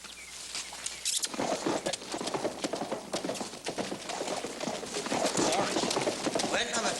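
Horse hooves clip-clop in a rapid, dense patter throughout a scene from the Western TV series Bonanza, fairly close. People talk over the hoofbeats.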